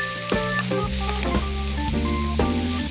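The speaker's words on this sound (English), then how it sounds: "add some cooking oil just to get it going, and fry the meat with some salt and pepper" Meat fries in cooking oil with salt and pepper, a quiet, close sizzle with crackles and clinks of a utensil stirring in the pan, no talking.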